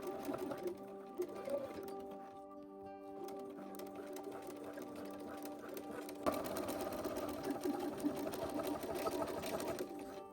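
Sewing machine stitching an elastic casing on a dress, a steady mechanical hum with rapid needle chatter, pausing briefly then running on more strongly, close and fairly quiet, no speech.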